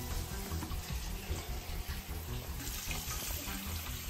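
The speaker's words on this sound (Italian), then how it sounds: "ti devi sciacquare un attimino con l'acqua fresca" Cool tap water runs steadily from a faucet into a sink for rinsing, a continuous close splashing rush with no pauses throughout.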